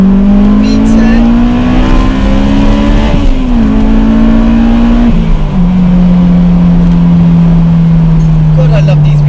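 A Honda S2000 pulling hard in second gear gives a loud, droning engine note from the cabin. Its pitch climbs gradually, then steps down a couple of times before holding a steady tone.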